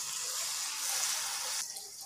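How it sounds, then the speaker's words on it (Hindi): About a kilo of water pours steadily into a cooking pot for yogurt chicken pulao, making a loud, continuous gushing stream that tapers slightly near the end. "अब हम इसके अंदर पानी शामिल करते हैं।"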